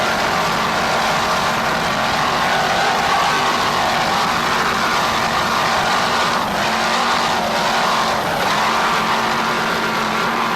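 Open class offshore racing powerboat engines from the Tropic Heat team roar steadily at the 1995 Grand Prix off Point Pleasant Beach, New Jersey, as a loud, unbroken drone with slight wavering.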